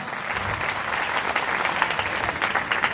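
An audience claps together at a Gandhi fair held at a university, dense continuous applause from a crowd close by, steady throughout with no voice above it.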